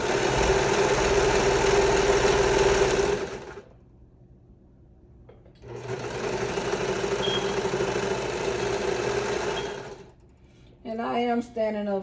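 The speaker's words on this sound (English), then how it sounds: "So I'm going to go ahead and serge the other pants leg" A serger overlocks the edge of a pants leg for fringed shorts in two long steady bursts of dense, buzzing motor whir, separated by a pause, with brief voice at the very end.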